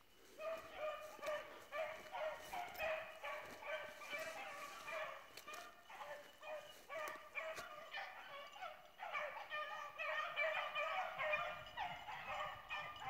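Hunting dogs baying on a chase, repeated barks and yips in uneven bursts at moderate distance, continuing steadily with an outdoor backdrop.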